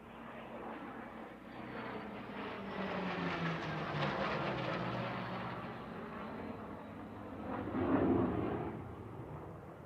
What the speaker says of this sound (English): And from the left, we have the flat pass.